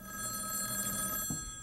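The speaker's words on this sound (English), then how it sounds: "I think four rings is Mabel." An old telephone bell rings steadily and fairly close, a continuous metallic ringing that cuts off near the end.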